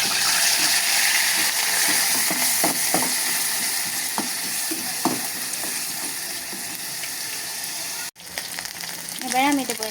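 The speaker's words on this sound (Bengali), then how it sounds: "প্রথমে আমি তেল গরম করে এবার পেঁয়াজ বাটা দেব।" Onion paste fries in hot oil with a loud, steady sizzle and scattered spatula taps and scrapes, close up. After a brief cut the sizzle continues more softly under a short tonal sound.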